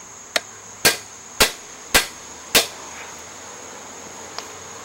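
Five sharp metallic strikes of a hammer on a metal pry bar ring out at a steady pace, each with a short bright decay, followed by a faint tap; no talking.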